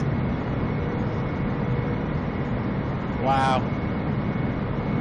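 A Boeing 747 jet rolls on a runway in Microsoft Flight Simulator, a steady broad engine roar filling the scene, with a brief rising whine near the end and a short exclamation from a voice.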